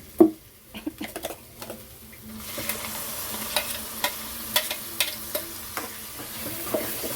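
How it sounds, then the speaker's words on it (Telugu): Tomato puree is stirred into frying onions in a pan for an egg curry, bringing a soft oily sizzle that swells after a few seconds, broken by repeated close scraping and tapping of a spoon. "టమాటా ప్యూర్ వేసుకొని మంచిగా కలుపుకోవాలి"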